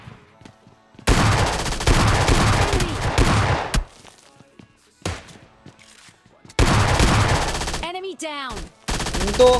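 Bursts of rapid automatic gunfire from an MP5K submachine gun in the mobile shooter PUBG Lite, loud and close, in several separate volleys with short pauses between them.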